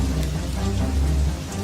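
Toxic rain on another world, made of chemicals lethal to humans, falls as a steady, dense hiss of drops with a low rumble underneath, continuous and fairly loud with no voices.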